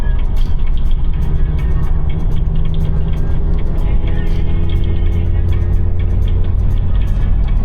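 Car with over 100,000 kilometers driving on a highway road trip from Johannesburg to Maseru, heard from inside as a loud constant road and engine rumble with tire roar, steady throughout and without distinct talk.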